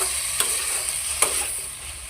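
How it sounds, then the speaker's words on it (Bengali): Cut vegetables, eggplant and potato with fish, being stirred in a hot oily pan for a curry, a steady close sizzle with two sharp scraping strokes of the spatula. "কেটে রাখা সবজিগুলো দিয়ে দেবো। তারপর নাড়তে থাকবো।"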